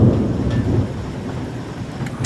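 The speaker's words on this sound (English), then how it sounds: "a storm breaks" A thunderstorm breaks over a crane-loading site, with a loud roll of thunder fading under a dense, steady hiss of falling rain; no one speaks.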